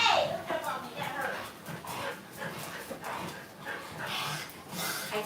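Dogs whimpering, yipping and panting close by while a person talks over them, the excited whines coming in short repeated bursts throughout.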